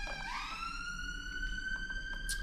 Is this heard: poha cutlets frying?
no